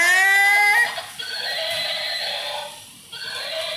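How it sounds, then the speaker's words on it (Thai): A toy horse in a model zoo plays a loud electronic neigh, a high wavering whinny that breaks off after about a second, followed by softer playful sound-effect tones. "ไปพบกับพี่ม้าดีกว่า"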